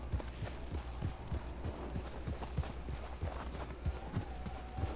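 An Appaloosa leopard-coated horse trots in the Red Dead Redemption game, its hooves making a steady, evenly paced clip-clop over a low background rumble.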